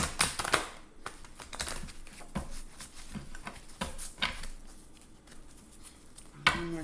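A deck of cards is shuffled close up in soft, quick riffles and taps, faint and irregular, with a few sharper snaps and no talking.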